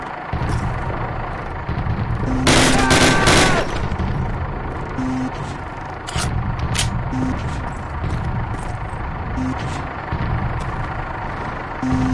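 Gunfire in a Call of Duty battle, with a loud burst of rapid automatic shots followed by scattered single cracks over a constant rumbling combat background, plus brief tonal game cues.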